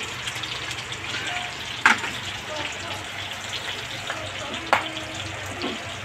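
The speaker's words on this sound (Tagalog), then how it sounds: "nakakatakot yung tilamsik ng mantika" Oil sizzles and spatters steadily in a pan, with a couple of sharp pops standing out above the constant hiss.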